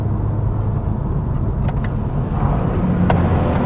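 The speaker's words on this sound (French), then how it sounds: "une Mustang Shelby GT350R qui arrive pleine balle là" A Ford Mustang Shelby GT350R arrives flat out on the Nürburgring Nordschleife, heard as a loud, steady rush of engine and road noise that holds for the whole moment without letup.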